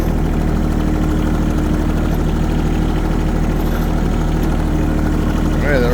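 A farm tractor engine runs with a loud, unbroken low rumble and steady vibrating drone throughout, close by and never changing pitch.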